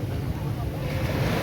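Surf rolls in at Nha Trang beach, Vietnam, as a short, constant roar of water blended with strong low wind noise against the microphone.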